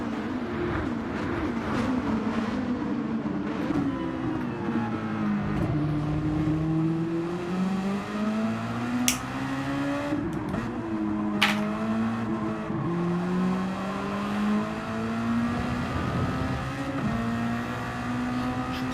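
Radio-controlled race cars on soft tyres buzz around the Kyoto Driving Park track, their high electric whine rising and falling in repeated sweeps as they brake and accelerate through corners, with a few sharp clicks.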